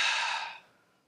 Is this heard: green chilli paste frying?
no